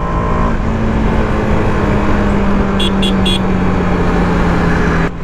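Close, loud engine sound from a TVS Apache RR 310 BS6 in track mode, a sustained droning note that holds steady for several seconds before cutting off abruptly near the end, with a few short chirps overhead.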